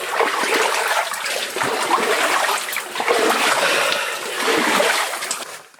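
Milky stream water splashes and rushes continuously close by. The sound is a loud, steady wash that fades at the very end, with no voices.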